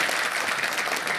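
An audience applauds at an inauguration ceremony, a steady wash of many hands clapping at once with no break.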